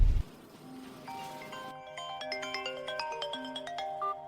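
A phone ringtone plays a repeating electronic melody of bright chiming tones during an office scene in a drama, steady and clear after a brief low thump at the start.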